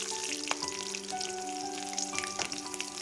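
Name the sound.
bay leaves, nigella seeds and green chillies frying in oil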